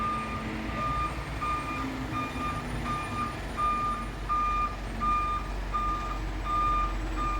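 A truck backs up with its reversing alarm beeping in a steady, evenly spaced rhythm over a continuous low engine rumble, fairly close, with no voices.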